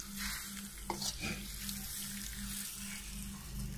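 Beef pieces fry in a little oil, a close steady sizzle with a faint stirring scrape and a low pulsing hum underneath.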